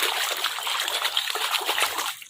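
A turtle swimming and splashing in water makes steady, close wet splashes and sloshing that continue for about two seconds, then taper off near the end.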